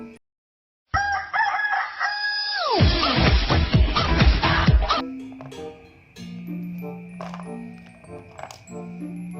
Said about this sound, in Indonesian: Ini adalah ayam. Ayam adalah hewan yang bertelur.